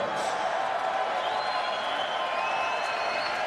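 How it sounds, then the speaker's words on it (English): Applause and crowd noise for two middleweight fighters at a bare-knuckle bout, a dense, steady roar of clapping and cheering that holds at an even level throughout. "let's have a round of applause for these 2 middleweight warriors"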